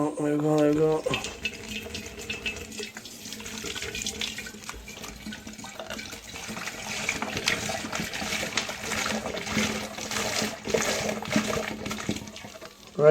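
Apple juice pours through a funnel into a container for making hard cider, a continuous gurgling rush of liquid close by while someone talks over it.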